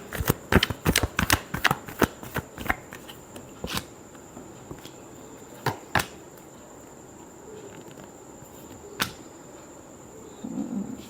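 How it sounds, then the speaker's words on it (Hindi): Tarot cards being shuffled: a quick run of crisp riffling snaps at first, then sparser single flicks and taps spaced seconds apart, close and fairly quiet, with no talk. "last shuffle"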